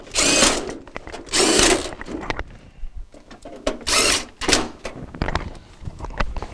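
Power drill driving screws into the back panel of a Jenn-Air refrigerator, several close, loud whirring bursts of about half a second each, separated by brief pauses and light handling clatter.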